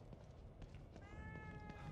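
A cat meows a few times within The Evil Within 2, short tonal calls rising over a busy game background with low rumble, fairly close and clear over steady ambience.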